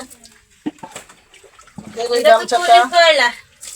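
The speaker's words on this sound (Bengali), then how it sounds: "এটাও ধুয়ে দাও এই যে এটাতে ময়লা হয়েছে" Clothes for a small girl are washed by hand in water, with splashing and sloshing growing louder toward the end, interspersed with brief handling sounds, while someone speaks nearby.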